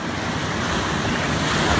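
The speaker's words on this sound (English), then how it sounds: "Notice how when the waves hit the wall, they reflect off at 90 degrees to the original direction of travel." Large ocean waves surge against a pier wall at Point Lonsdale in a steady, loud, broadband wash mixed with wind noise, with no voices.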